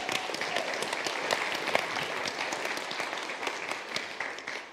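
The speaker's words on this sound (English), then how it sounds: "If you approve, clap" A Baptist church congregation claps to welcome returning members at a Sunday service, a dense, even patter of many hands heard from a little distance and sustained throughout.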